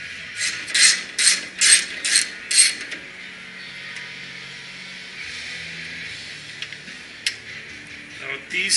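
Ratchet wrench on an extension loosening a bolt on a 1986 Toyota Supra MK3 during fender and front bumper removal: five loud, close bursts of rapid clicking in the first three seconds, then quieter handling noises.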